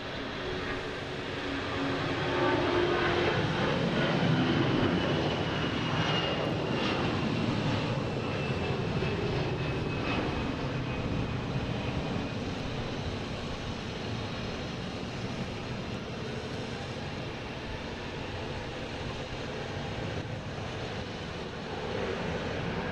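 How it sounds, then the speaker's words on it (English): A Delta Airbus A319 jet taking off, bound for Chicago: a loud, continuous engine roar that swells early, then slowly eases and fades as the aircraft climbs away, with no voices. "we have Delta taking off, heading to Chicago in an A319"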